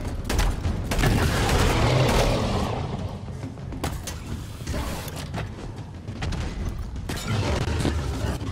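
Gunfire in Halo Infinite: rapid, loud bursts of shots and impacts crowd the opening seconds, then ease into scattered bangs and a busy in-game din before a further volley near the end.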